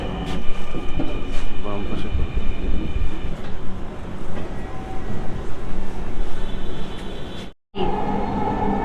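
A Dhaka Metro Rail train hums and rumbles steadily at Mirpur 11 station platform, with a recorded Bengali and English announcement voice speaking over the noise before a brief cut.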